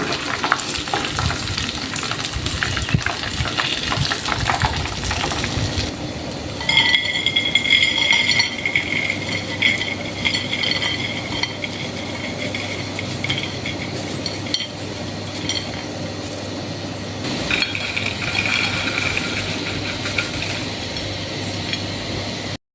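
Peanuts for kacang kribo cookies sizzle steadily in hot frying oil, with occasional stirring and clinks of a utensil against the pan, continuous and close throughout with no voices.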